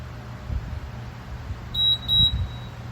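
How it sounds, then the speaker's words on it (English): Corghi ET1450 truck and passenger wheel balancer sounding its detent beep: a thin, high electronic tone pulsing a few times over a low hum, with faint handling thumps nearby. "and I get a detent beep."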